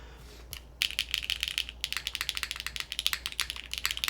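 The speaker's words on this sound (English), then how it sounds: "But I think this is a fantastic sounding keyboard. This sounds really good." Rapid clacky keystrokes on a Fukuro R2 custom mechanical keyboard begin after a short quiet moment, then continue as a close, crisp, uneven stream of key presses with no talking.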